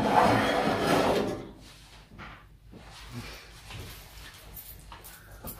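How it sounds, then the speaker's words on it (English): A Pomoly Timber Lite titanium hot tent stove has its door opened, giving a short metallic scrape and clunk near the start, followed by quieter handling rattles close by. "I'm going to open the door on it."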